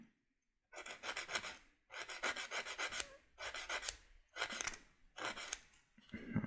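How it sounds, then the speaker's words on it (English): Sanding stick rasping a thin moulded plastic lip off a Tirpitz model kit part, in five close, steady bursts of dry scraping strokes separated by short pauses, with no talking. "there's a little lip of plastic that's formed when it comes out of the mould, so it's just to get rid of that. Try a different sanding stick."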